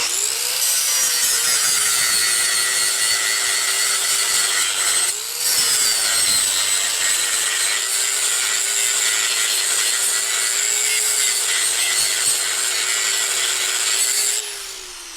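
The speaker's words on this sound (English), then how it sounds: "I'm going to grind all the weld off on the top." An angle grinder grinds weld off a car body panel during a DIY vehicle restoration, a loud sustained high-pitched metallic grinding with a slight pitch wobble and a momentary dip, running for about fifteen seconds.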